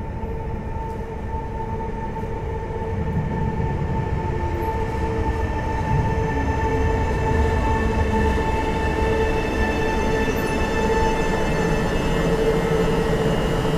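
Passenger train arriving at Wrocław Nadodrze station, a steady rumble of wheels on rails with sustained tonal hums and faint squeals, growing slightly louder as it comes in close.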